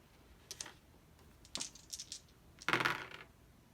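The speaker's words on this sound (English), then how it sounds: "I need to roll 3 more dice" Several dice rolled onto a table during a solo tabletop game, giving a few quick clattering bursts at a low level, the last roll the loudest and longest.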